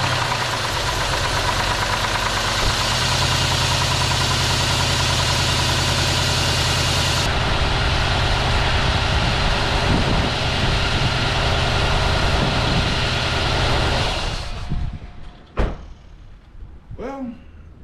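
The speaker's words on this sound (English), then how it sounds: "Let me crank up, see what." A 2001 Cadillac Deville Northstar engine, rebuilt after a blown head gasket and misfiring, cranks and runs with a steady loud rough idle and knocking vibration for about fourteen seconds before shutting off, followed by a few clunks.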